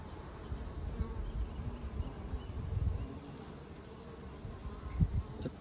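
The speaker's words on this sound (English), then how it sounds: "There's bees walking around with pollen all over them." Honey bees buzz around an open hive heavy with pollen during a varroa mite treatment, a close, steady low hum with a few louder swells passing near.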